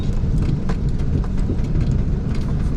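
A truck engine rumbles past on a highway, a broad, steady low roar that fills the whole stretch at close range without letting up.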